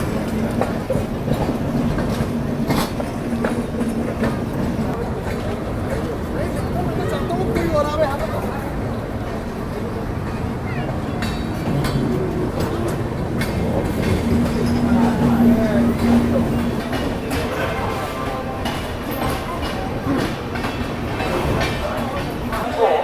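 The Sampark Kranti Express rolls into Ratlam Junction with a steady rumble and rhythmic clickety-clack of wheels over rail joints, loud and close, with faint voices in the background.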